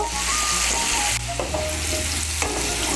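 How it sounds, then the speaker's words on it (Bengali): Small new potatoes coated with salt and turmeric fry in hot oil in a kadai, a loud, close sizzle broken by the scrape and clatter of stirring. "মিশিয়ে নিয়ে আলুটাকে লাল করে ভেজে নেব"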